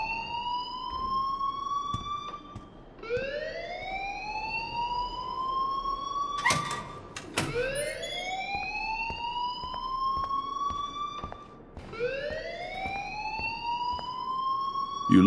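A fire alarm ringing in the video game Life is Strange, its rising whooping tone repeating every few seconds, fairly loud and steady, with a brief clatter partway through.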